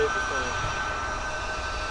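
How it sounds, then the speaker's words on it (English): A military AC-130 plane touches down nearby, its steady engine roar loud and constant with a high whine over it. "This bitch ass AC130 that's just touched down outside of us, southeast of us right now, is the exact plane that's came by."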